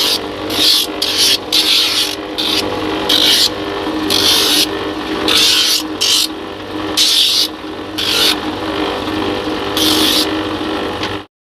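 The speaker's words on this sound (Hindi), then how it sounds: "अब इनका बॉर्डर का पूरा हिस्सा ग्राइंडर किया जाता है।" An electric grinder works the border of handmade Kolhapuri leather chappals, giving a series of loud, close rasping bursts over a steady motor hum, with no one talking.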